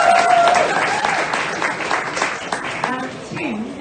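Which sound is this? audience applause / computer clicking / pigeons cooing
audience applause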